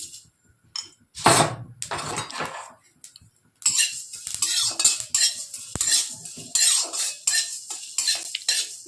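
A metal spoon scrapes and clinks around a pan in irregular bursts, with a soft sizzle underneath as five-spice, dried red chillies and cumin lightly fry.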